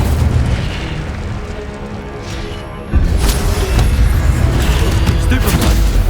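A fiery Incendio spell cast in the Hogwarts Legacy video game erupts in a loud, sudden boom about midway, then a dense roaring blast that stays heavy to the end. Softer game ambience comes first.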